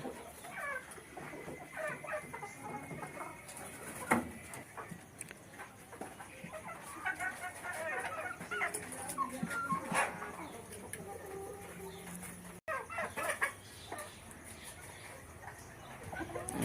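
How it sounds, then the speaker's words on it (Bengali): Scattered chicken clucks and squawks from a flock of Brahma chickens on a poultry farm, moderately distant, with other bird calls and a dog-like bark mixed into a busy yard. "এই যে দেখা যাচ্ছে ব্রাহামা মুরগি আর নিচের ওগুলো ব্রাহামা"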